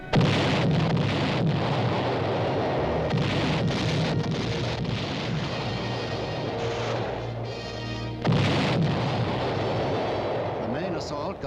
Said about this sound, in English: Got underway immediately after a devastating shore bombardment